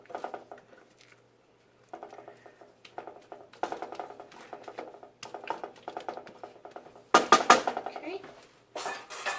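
A spoon scrapes and clatters in a pan while broccoli is stirred into a frittata egg mixture. The short, uneven clinks and scrapes come in bursts, with one louder clatter near the end.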